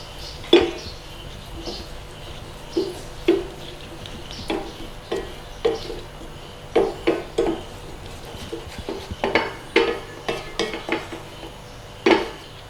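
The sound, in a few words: stirring sweet noodle sauce in a pan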